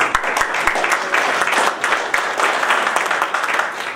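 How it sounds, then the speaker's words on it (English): Audience applause at an immigration-issues indaba in South Africa, a dense steady clapping from a crowd lasting throughout, fairly loud and close with no talk over it. "I hope everybody's giving you a good clap that side."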